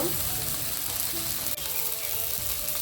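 Green chili and salt hit hot oil in a pan while frying tel koi fish curry, giving a steady, close, loud sizzle that runs evenly throughout.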